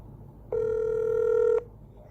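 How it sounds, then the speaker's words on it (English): Phone ringback tone heard while calling someone, a single sustained electronic tone of about one second, clear and alone against quiet background hum. "Let's get him on the phone, see if we get him."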